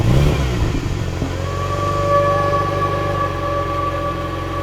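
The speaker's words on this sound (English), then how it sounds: "this is the car engine" A car engine runs and revs up loudly, with a rising, siren-like whine that settles into a steady drone for several seconds, heard alone without talk.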